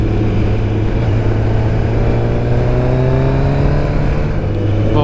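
A loud, raspy aftermarket motorcycle exhaust revs and climbs in pitch as the engine pulls hard, with no voices.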